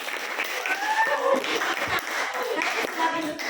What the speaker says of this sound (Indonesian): Berikan aplaus untuk temannya.